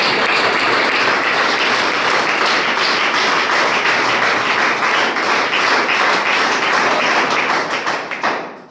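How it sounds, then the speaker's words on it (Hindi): Loud, sustained applause from a large audience at a motivational education meeting, dense steady clapping filling the whole stretch before tapering off abruptly at the end. "एक बार जोरदार ताली बजाइए।"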